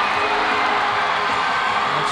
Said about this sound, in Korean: 연세대학교 응원단은 벌써 승리를 예감하듯 환호하고 있습니다